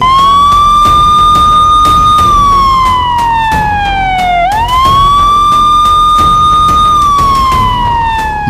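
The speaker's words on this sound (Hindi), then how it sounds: "वो दिन नहीं भूले जाते जब देश में सायरन बजते थे" A loud wailing siren rises and falls in long slow sweeps, close and continuous, with a rumbling engine underneath.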